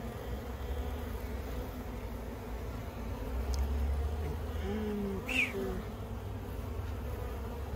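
Honey bees swarm around an open beehive whose frames hold capped honey and pollen, making a steady, close droning hum with a few louder individual buzzes passing near.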